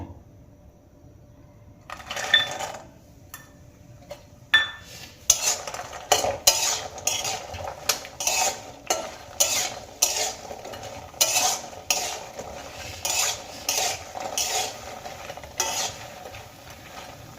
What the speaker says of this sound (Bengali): এবার এর মধ্যে আমি বেশ কিছুটা বড়ি ভেজে নেব